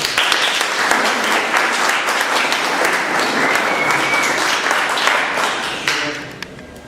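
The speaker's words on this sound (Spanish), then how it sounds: "Démosle una fuerte bienvenida con un fuerte voto de aplausos." Loud, sustained audience applause welcoming a lecturer to a talk, dense and even before tapering off in the final moment.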